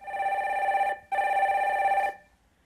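Telephone ringback tone as a call connects on a Korean broadcast: two long electronic rings with a short gap between them, clear and steady, no voices.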